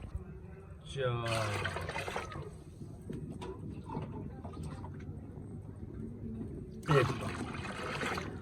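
Water poured from a mug into a large cooking pot for degi beef pulao, a steady trickling pour in two bursts, heard close over ongoing kitchen background and some talking.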